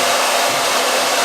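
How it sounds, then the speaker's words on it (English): A blow dryer or heat gun runs steadily on a carbon fiber car part, with a loud, constant airy whoosh, close by and with no other sounds. "you're gonna take the blow dryer or the heat gun"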